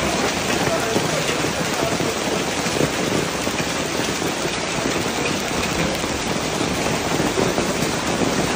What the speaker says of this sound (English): Rome came to a sudden halt after a severe hailstorm swept through the city, flooding the streets